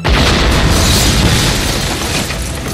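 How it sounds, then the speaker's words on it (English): A building explodes in a Rush Hour 2 movie scene: one loud, close boom of roaring broadband blast that fills the whole moment and then slowly fades. "Carter, the damn building just blew up"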